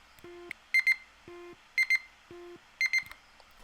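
A Nintendo Switch 2 Joy-Con or Pro Controller locator sound: electronic beeping in three repeated bursts, each a low steady tone followed by quick high-pitched double chirps, clear and close with no talking.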